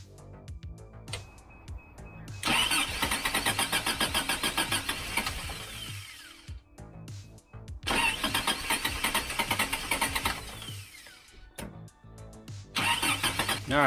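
A rebuilt Toyota 22RE engine cranks repeatedly in long bursts, turning over steadily with a rhythmic chugging but never catching, separated by short pauses, loud and close with no talk.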